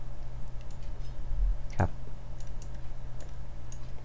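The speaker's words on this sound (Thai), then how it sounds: "คลิกที่เหนือคำสั่ง undo และคลิกปุ่ม add" A single sharp computer mouse click stands out midway over a steady low electrical hum, with faint soft clicks scattered around it.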